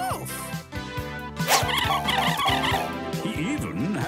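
Cartoon dog barking in the children's animated show Hey Duggee, a run of bright, bouncy woofs and yips over cheerful background music, clear and close, with no talk over it.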